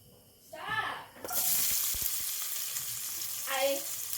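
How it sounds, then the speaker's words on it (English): Chopped onions hit hot olive oil in a pan and break into a loud, steady sizzle that carries on for several seconds, with a voice briefly heard before and during the frying. "You're going to add in your chopped up onions."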